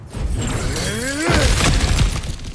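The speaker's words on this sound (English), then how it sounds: "back to smashing through things for fun and profit" Smashing through an obstacle in God of War Ragnarok: a loud, close shattering crash of breaking material with rumbling debris, standing alone with no talk.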